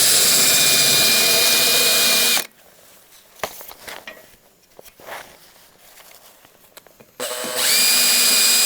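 On a 1968 Regal rebuild, a power tool grinds powder coating off the car's chassis around the bolt holes in two loud, steady runs, separated by a quieter stretch of clanks and footsteps.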